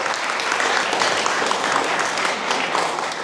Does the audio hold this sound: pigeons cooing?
no